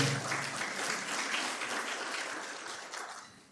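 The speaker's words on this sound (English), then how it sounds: "Let's give a better round of applause to Gloria" Audience applause fills a university innovation week and industry summit hall, a dense, steady clapping from a large crowd that holds strong before fading toward the end, with no talk over it.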